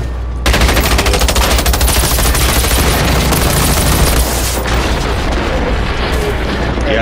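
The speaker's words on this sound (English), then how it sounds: "Something else was shooting at me." Sustained rapid automatic gunfire in Generation Zero, a loud unbroken volley of shots with heavy low booms rolling beneath, continuing almost without pause for several seconds.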